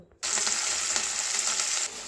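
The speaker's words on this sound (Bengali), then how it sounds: "মাছটা যতক্ষণ ভাজা হোক" Bata fish frying in hot oil for pakora, a loud, steady close hiss and crackle that starts abruptly after a brief silence and holds evenly to the end, with no talk.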